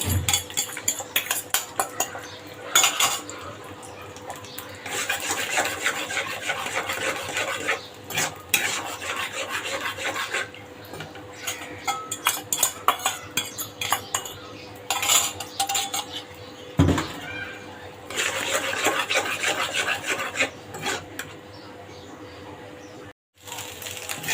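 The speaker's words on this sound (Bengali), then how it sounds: "চারটা ডিম ভেজে নিলাম" Four eggs fry in hot oil in a pan for noodles, giving a steady, close sizzle with frequent scraping and clinking of a metal spatula against the pan, and no talking.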